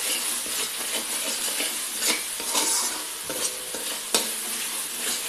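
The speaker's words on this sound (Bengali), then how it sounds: "সব মশলা দিয়ে ভালো করে এটাকে কষিয়ে নিতে হবে।" Cauliflower sautéing with spices and a spoonful of sugar in oil in a pan, a continuous close sizzle broken by stirring scrapes and a sharp utensil clink.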